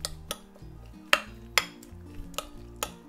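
Endive and shrimp salad tossed with olive oil, honey, salt and pepper dressing: clinks of a utensil against a bowl, with several sharp taps and faint scraping between them, close up, no talk.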